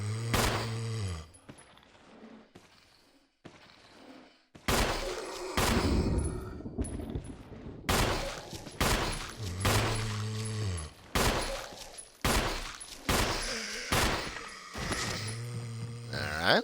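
Gunfire in the Resident Evil Invisible Enemy game, loud repeated shots spaced in bursts and separated by brief quiet gaps, with echoing game effects between them.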